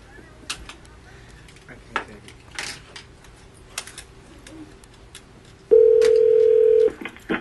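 Telephone sounds for a radio-station prank call: faint clicks and button taps, then a loud, steady dial tone that holds for about a second before cutting off, followed by more clicks.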